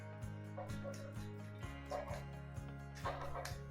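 A dog barks in short yips and lets out whimpers in a kitchen during pierogi making, the sharp calls repeating every half second or so over a steady low hum, fairly close and moderately loud.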